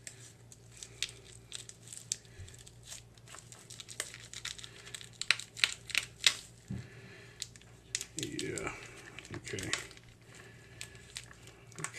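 Knife cutting open a grilled stuffed bison burger: faint, close scraping, crinkling and squishy tearing sounds in short irregular bursts, with a quiet voice in the background.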